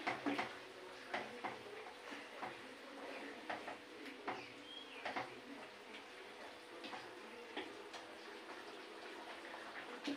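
Fish pieces frying in a pan with cumin powder and chili powder, a soft sizzle marked by scattered clicks and stirring scrapes, close and fairly quiet.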